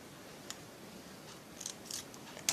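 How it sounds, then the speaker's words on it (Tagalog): Scissors snipping paper while making a paper squishy, a few quiet, crisp cuts spaced apart over a soft background hiss, close but faint. "Guntingin natin siya."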